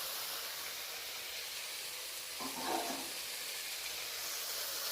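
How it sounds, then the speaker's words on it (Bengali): Hot water poured into frying spiced curry masala, a steady, loud sizzling hiss that surges briefly partway through, with no speech. "এই পর্যায়ে আমি গরম জল দিয়ে দেব।"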